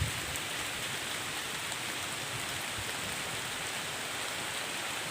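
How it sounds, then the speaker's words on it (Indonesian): Heavy rain pours down steadily around a big tree in a village, a dense continuous hiss of falling water heard close and constant with no voices. "Ini di pohon besar nih, berteduh. Hujan lebat."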